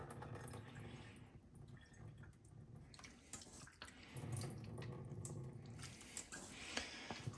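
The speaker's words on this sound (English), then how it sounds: "So just kind of pour out all the excess water here" Water splashing and trickling as excess liquid is poured off a bowl of beef in a home kitchen, a steady, close, low-level running pour with small drips and clatter, no voices.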